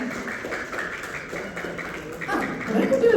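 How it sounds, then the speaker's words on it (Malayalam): Children in an audience at a live fun event clap in a loose, uneven patter, with crowd noise swelling toward the end. "കുട്ടികൾ മാത്രം ഒന്ന് കൈയടിച്ചേ,"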